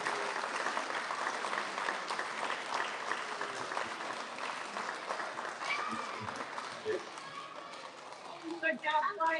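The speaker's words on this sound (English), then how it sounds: "Big round of applause for our first graders." An elementary school audience claps for first graders at a student recognition event, a steady moderate patter of applause with voices mixed in, ending in a few louder sounds.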